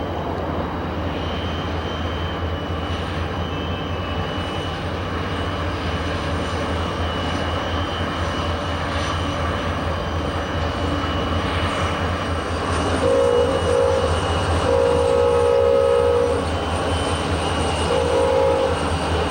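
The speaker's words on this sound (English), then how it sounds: "Another westbound comes into the yard with a Snoot SD40-2 leading a pair of SP tunnel motors" A westbound freight train rolls into a rail yard behind a Snoot SD40-2 leading a pair of SP tunnel motors, a steady diesel rumble throughout with a louder stretch near the end carrying a few short horn-like tones.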